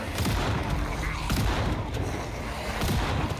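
Shotgun blasts fired at zombies in the survival game Project Zomboid, a few heavy booming shots spaced out over dense, loud rumbling noise.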